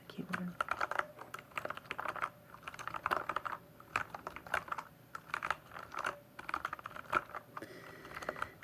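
Close-up typing on a computer keyboard: brisk clattering keystrokes come in rapid bursts with brief pauses, crisp and near, with no voices.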